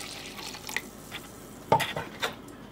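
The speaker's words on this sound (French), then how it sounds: "Je vais mélanger un peu pour être sûr que ma poudre soit bien dissoute" Spoon stirring dissolving powder into just-boiled water in a glass jar, a few sharp clinks and scrapes against the glass amid a soft background hiss, fairly quiet and close.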